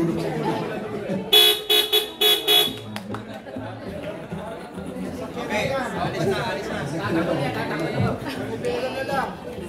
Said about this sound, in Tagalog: Yung busina pala